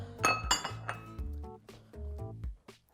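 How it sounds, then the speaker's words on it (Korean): Glass and ceramic dishes clink and knock together as they are lifted out of a dried load in an LG DIOS dishwasher, a close series of bright, irregular chinks with no talking. "식기세척기 안이 건조가 됐으니까 제가 한번 꺼내 볼게요"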